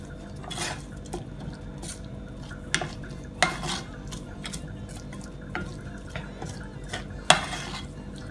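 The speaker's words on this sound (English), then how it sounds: "I'm also gonna add some parsley. Go ahead and stir." Spicy garlic shrimp with parsley is stirred in a pan, with a scattering of soft scraping clinks and taps from the utensil against the pan over a faint low background.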